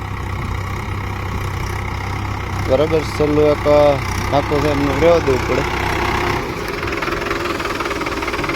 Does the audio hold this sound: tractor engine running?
yes